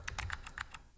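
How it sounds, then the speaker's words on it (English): Quick bursts of keystrokes on a computer keyboard while entering a username at a login prompt, about six close, crisp taps in an even rhythm, fairly quiet with no talk. "So let's type as a username famous Elastic"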